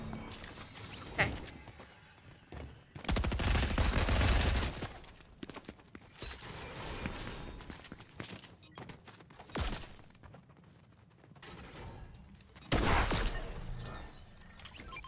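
Pistol gunfire in a Fortnite zero build ranked match: a handful of separate loud bursts of shots spaced several seconds apart, with quieter in-game noise and a player's voice between them.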